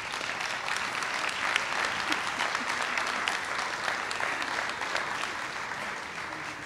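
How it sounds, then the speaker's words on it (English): At a school board meeting, the audience gives a team a round of applause: a steady wash of many hands clapping for several seconds at an even, moderate level. "we'll give them a nice round of applause"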